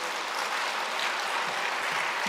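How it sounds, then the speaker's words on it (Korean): Congregation at a Sunday church service claps together to welcome newly registered members, a dense, even burst of applause filling the hall without speech. "등록했는데 박수 한번 쳐주세요."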